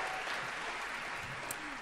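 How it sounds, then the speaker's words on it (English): At an a cappella quartet concert in Harrogate, an audience claps steadily for a singer in a short, even burst of applause with no let-up. "One more round of applause"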